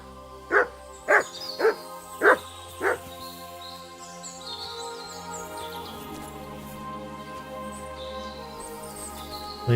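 The dog Mutt from the video game Kingdom Come: Deliverance 2 gives five sharp, evenly spaced barks up close, followed by quiet ambient game music and background sound.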